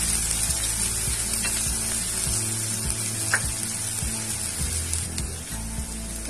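Finely chopped medium onion and two green chillies roasting in a pan, a steady close sizzle of frying with scraping stirs and occasional clinks of a spoon against the pan, no talking.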